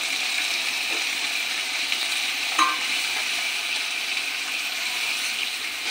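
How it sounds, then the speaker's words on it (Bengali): Onion and spice base for egg curry stir-fried in hot oil, giving a steady, close sizzling hiss throughout with one brief clink partway through. "ফোড়নটা ভালো করে কষে নিই।"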